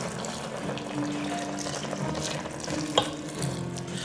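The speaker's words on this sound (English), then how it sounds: "now I'm going to put in the 2 cups of the beef broth" Two cups of beef broth poured into an Instant Pot over a roast, a steady close trickling stream of liquid with a faint clink partway through and no talking.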